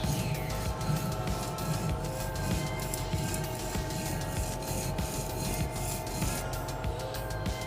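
A knife blade is worked across a whetstone in steady back-and-forth scraping strokes, a close, continuous gritty rasp with a repeating rhythm and no talking.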